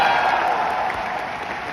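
Applause from a seminar audience at a success-day event in New Delhi, a brief wash of steady clapping that tapers slightly toward the end.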